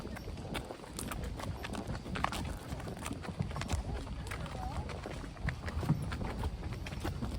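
A donkey's hooves clop steadily over a bridge while she is ridden, a continuous near rhythm of footfalls with a person talking over it.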